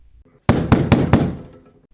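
Knuckles rap a table four times in a brisk, slightly uneven rhythm, each knock loud and close, with the sound decaying quietly afterward.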